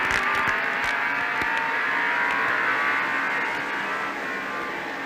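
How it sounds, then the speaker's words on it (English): NASCAR Winston Cup stock cars race at Martinsville in 1989, a steady loud roar of several engines at once with drivers lifting off the throttle on the straights, heard from nearby without talk. "You can hear where the drivers let off on the accelerator about midway down the front stretch and the back stretch."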